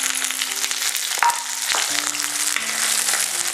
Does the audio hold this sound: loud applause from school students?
no